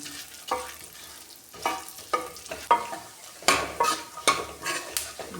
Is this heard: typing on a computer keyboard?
no